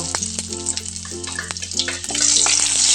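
Chopped ginger and garlic land in hot coconut oil and fry with a loud crackling sizzle that swells into a strong, steady hiss partway through, close and alone.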